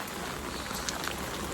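Heavy rain pours steadily during a village flood, a dense, continuous hiss with no clear gaps throughout.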